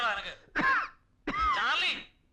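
A man coughs and clears his throat in two harsh, raspy bursts, close and loud, separated by a short pause.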